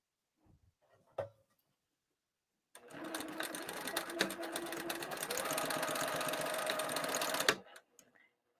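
Sewing machine stitching a lining seam, back tacking at the start and end: a steady, close, loud mechanical whir running about five seconds after a brief faint handling knock, with no talk over it.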